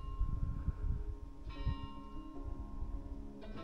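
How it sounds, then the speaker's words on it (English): Church bells ring out over a hilltop Italian town, several struck tones with long ringing overtones arriving in a couple of separate strikes, moderately distant beneath low rumbling background noise. "Church bells."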